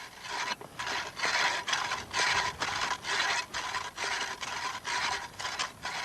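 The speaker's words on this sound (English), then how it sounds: "dry drilling goes on" A hand drill works dry into granite with sand as abrasive, giving a gritty rasping grind in repeated back-and-forth strokes, roughly two per second, moderately close with short pauses between bursts.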